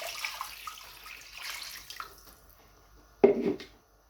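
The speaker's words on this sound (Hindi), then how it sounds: "इसके अंदर मैं डालूँगी ये 2 लीटर पानी" Two litres of water poured into a pot holding half a kilo of mutton chest pieces for yakhni, a short splashing gush near the end after a quiet stretch, close and fairly loud, with no talking.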